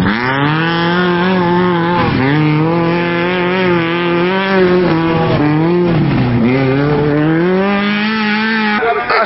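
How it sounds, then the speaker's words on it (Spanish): Tubular dune buggy engines roaring at a racing tournament in Tacna, loud and close with continuous revving that dips and climbs through gear changes for the whole stretch. "Muchos disfrutaron del crujir de los motores y la velocidad de estas curiosas máquinas."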